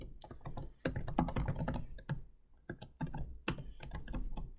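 Computer keyboard keys clatter in quick, uneven bursts as Python code for a virtual assistant is typed, with short pauses between runs of keystrokes, close and fairly loud with no voices.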